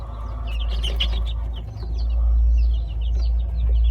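Chickens and young chicks cluck and peep in short, scattered calls over a low background hum, fairly close by in a garden setting.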